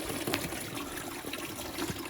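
Coolant draining from an Audi's cooling system with the reservoir cap off, a steady close trickling and splashing of liquid with small irregular drips.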